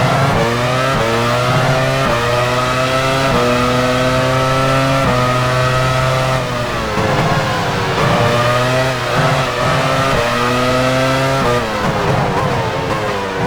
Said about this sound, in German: Luca Badoer fährt jetzt wieder aus der Boxengasse.